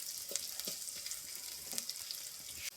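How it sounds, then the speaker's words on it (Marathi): Garlic and ginger paste fry in hot oil for a tempering, a steady close hiss with scattered small pops and stirring scrapes. "हे लसूण अद्रक तळून झाल्यावर मग फोडणी."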